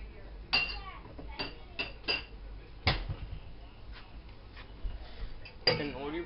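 Dishes, cups and cutlery clink sharply as a dishwasher is unloaded, a series of separate close knocks and rattles spread irregularly, with a voice talking in between.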